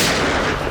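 Gunfire in a TV crime drama scene: a short, dense burst of loud, sharp shots filling the moment with no speech.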